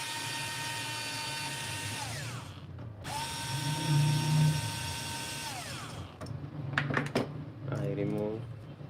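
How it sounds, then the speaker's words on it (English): Power drill backing out screws from a Growatt SPF 5000TL HVM inverter, two long whining motor runs that rise and fall in pitch, then a few clicks and a short rattling burst, close and loud. "we need to completely remove this 4 screws"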